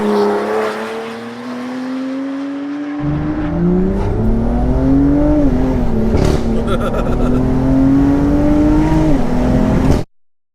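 625bhp big-turbo BMW M2 accelerating hard on road tyres, engine note climbing steadily through the revs in long, loud, close pulls with a shift before cutting off abruptly; people talk inside the car over it.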